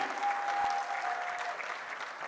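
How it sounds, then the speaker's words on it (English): Dense, continuous applause from a large audience at a jewellery industry evening event, even and sustained throughout with no talking over it. "you can be a little more generous in the applause"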